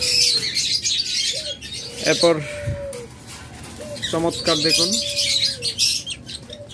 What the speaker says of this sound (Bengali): একদম বিগ সাইজের ককাটেল পাখি রয়েছে।